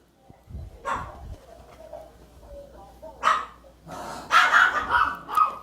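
Dogs bark and yip in short scattered bursts inside a farmhouse bedroom, some sharp and high, with quieter whimpering between them; nearby, in a fairly quiet room.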